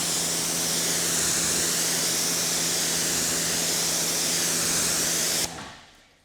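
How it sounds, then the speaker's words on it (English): Ceramic coating spray hissing steadily from a bottle onto the glass of a Tesla Model 3, close and loud, a continuous spray for about five seconds that stops abruptly. "spray this down liberally"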